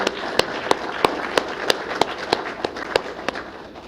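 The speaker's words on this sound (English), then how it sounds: "Let's have a round of applause for her." Sparse, steady clapping rings out at a city employee recognition awards ceremony in Pensacola, roughly a dozen evenly spaced claps at a moderate distance, fading slightly toward the end.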